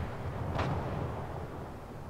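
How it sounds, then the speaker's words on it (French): One distant tank cannon boom in World of Tanks rolls out over a constant low rumble, its echo fading slowly across open countryside. "Par contre la résonance des canons dans la campagne c'est vraiment..."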